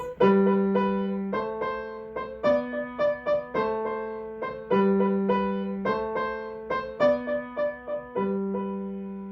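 Piano chords are played one after another at a gentle, even pace, with the third of each chord sounded, each sustained briefly before the next, with no voices.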